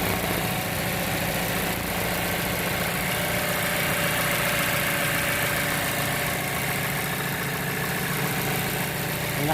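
A car engine with a suspected misfire idles in a steady, even rumble, close and continuous, with no speech over it.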